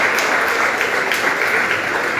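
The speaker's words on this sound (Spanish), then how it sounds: "Un aplauso para todos ustedes por su participación." An audience applauding at an academic event, steady dense clapping filling the whole short stretch, fairly loud and close.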